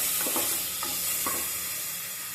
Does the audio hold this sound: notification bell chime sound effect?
no